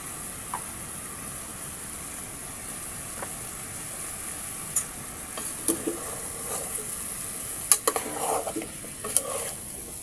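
Chicken feet adobo with calamansi stirred in a pan: soft low sizzle, then a cluster of metal spoon scrapes and clanks against the pan in the later half, close and without talk.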